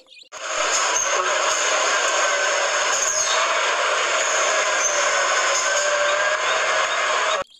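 A concrete mixer truck passes close by, a loud, steady roar of engine and rumbling drum that holds for several seconds before cutting off abruptly.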